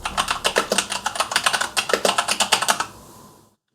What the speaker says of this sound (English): I just typed, this keyboard sucks.